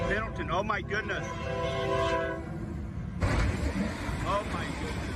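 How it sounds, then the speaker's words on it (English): A train horn blares loudly over the heavy rumble of rail cars rolling past a level crossing, with voices talking underneath. "the train sped toward her at lightning speed"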